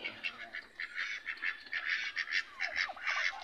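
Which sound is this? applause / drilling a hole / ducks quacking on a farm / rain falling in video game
ducks quacking on a farm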